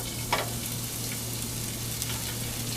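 Shallots and onions sauté in hot olive oil in a pan, giving a steady, close hiss of frying with a couple of small crackles and a low hum underneath.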